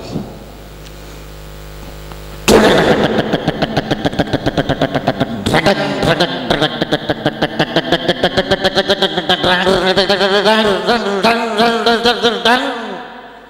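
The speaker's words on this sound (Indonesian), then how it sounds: "Pakai motornya yang knalpotnya bunyinya kayak luar biasa," A motorcycle with a loud, raspy exhaust fires up after a quiet moment, then revs in rapid, throaty pulses, close and very loud.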